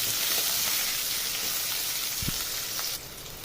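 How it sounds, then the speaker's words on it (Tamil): Carrot and bean stir-fry vegetables with onion and dried red chillies sauté in a pan, a soft steady sizzle up close that drops a little quieter near the end. "நல்லா வதக்கிக்கலாம்."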